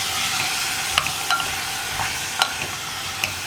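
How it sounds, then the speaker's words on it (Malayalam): A spoon stirs a potato, carrot and beans vegetable kurma in a pan, with soft steady sizzling broken by a handful of sharp scrapes and clinks against the pan. "ഇതെല്ലാം ചേർത്തിട്ട് നന്നായിട്ടൊന്ന് ഇളക്കി കൊടുക്കുക"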